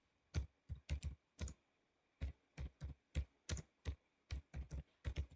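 Keys typed in short bursts on a computer keyboard while writing Java code for a simple to-do list program, each crisp clack close and distinct, with brief pauses between clusters.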